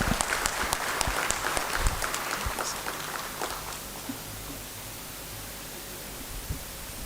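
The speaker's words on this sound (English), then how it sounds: "A big applause, please." Audience applause fills a hall at the valedictory round of a national moot court competition, a dense, moderately loud patter of clapping that gradually thins and fades toward the end.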